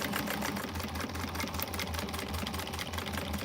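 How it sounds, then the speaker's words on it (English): A sewing machine runs steadily while backstitching a seam on a quilted cactus-pattern bag, with a continuous mechanical whir and a low rhythmic thrum throughout. "I do backstitch."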